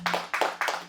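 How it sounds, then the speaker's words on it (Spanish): Brief burst of applause from a church congregation during a Sunday service, several quick clap clusters in a short rhythmic run, fairly close. "Le podemos dar un aplauso al Señor."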